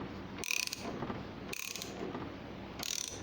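Stainless steel bolt being tightened into a nut, a ratchet wrench clicking in three quick bursts of metallic ticks with pauses between, close and fairly quiet.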